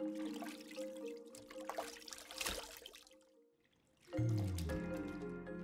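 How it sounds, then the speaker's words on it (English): Fish is rinsed in salty water, with trickling and dripping followed by a brief lull and then a louder splashing pour, set against a steady hum of background music. "the fish is washed in salty water to reduce its fishy smell"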